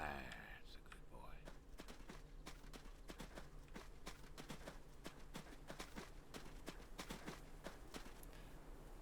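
Horse hooves clip-clopping in a steady, fairly quick rhythm of sharp knocks, faint and at a distance over a low constant hum.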